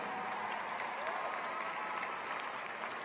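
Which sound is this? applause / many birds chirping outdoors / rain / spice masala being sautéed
applause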